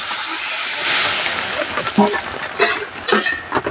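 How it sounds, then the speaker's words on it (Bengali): Young bottle gourd dropped into a hot pan gives a strong hissing sizzle that swells and then settles, with a voice speaking over the later part. "দেখো গরম হয়ে গেছে, এবার লাউটা রেখেছি, এবার লাউটা আমি দিয়ে দিলাম।"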